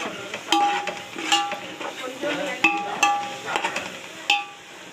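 Tomatoes with Kashmiri chili powder are sautéed in a pan, with quiet scraping and a few light metallic clinks as a spatula stirs in an uneven rhythm.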